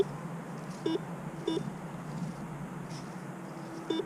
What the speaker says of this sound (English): So it beeps.